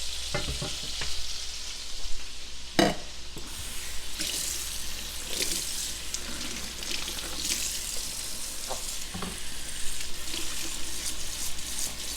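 A pork chop cooks in a hot pan with a steady, continuous sizzle and frying hiss throughout. A single sharp knock comes early, and a faint clatter of a utensil sounds close by. No one speaks.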